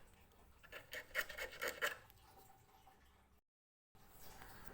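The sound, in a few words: sharpening eel fishing hook with whetstone or fine sandpaper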